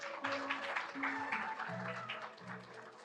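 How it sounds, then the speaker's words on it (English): An audience applauds at a Yeungnam University global forum session, the broad steady clapping running under a tonal musical line for a few seconds at moderate distance. "please give them another round of big applause"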